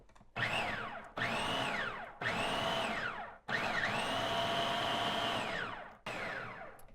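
A kitchen blender pulses masala for Gujarati Surti undhiyu, giving five loud whirring bursts of a second or more, separated by short pauses, up close with no talk.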